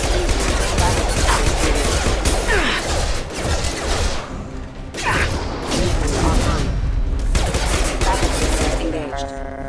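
Gunfire in the video game Mass Effect, dense rapid shots and impacts running almost continuously with brief lulls, loud and close, mixed with mechanical clatter and game voices.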